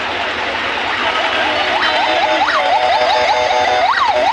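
An ambulance siren wails in repeated rising-and-falling sweeps amid a highway traffic jam near Debidwar on the Sylhet highway, loud over a steady traffic rumble, with no talking.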